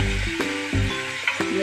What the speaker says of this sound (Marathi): इथे बघा आता उकळी आलेली आहे